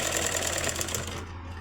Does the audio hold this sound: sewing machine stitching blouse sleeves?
yes